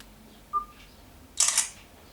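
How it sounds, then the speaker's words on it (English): An LG Optimus 3D phone camera takes a 3D picture: a short electronic beep, then a loud simulated shutter click a second later, close and alone over faint background hum. "I'm going to take a 3D picture."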